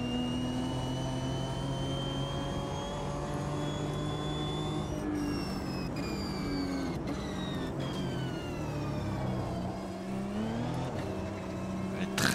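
Race car engine in the sim racing game Automobilista 2, a steady high-pitched drone with shifting harmonics as revs rise and fall, with a few abrupt gear-change breaks, continuous and fairly loud throughout.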